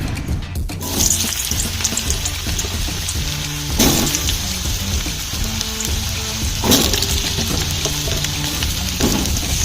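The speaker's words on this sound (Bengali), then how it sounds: "কড়াইতে হালকা একটু তেল দিলাম, এবার একটু তেলটা গরম হবে, তারপরে আমি আলুগুলো দেবো" Oil heating in a kadai and then potatoes frying, giving a steady, close sizzle with occasional stirring and clatter bursts, with no talking.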